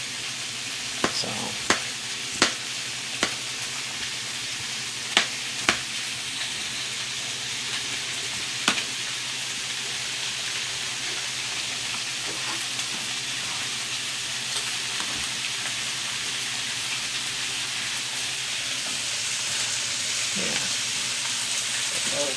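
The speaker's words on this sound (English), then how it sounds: "While that meat is browning and we're getting a little burn on it, you can add your onions to that." Ground meat and onions brown in a pan for baked spaghetti, a soft continuous sizzle with occasional sharp clicks and scrapes of a utensil against the pan, while a voice speaks briefly at the start.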